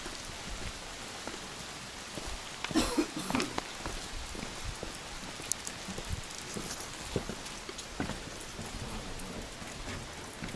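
Steady rain patters and spatters on surfaces outdoors on a rainy day, a soft continuous hiss dotted with sharper drips and occasional louder splashes, with no voices.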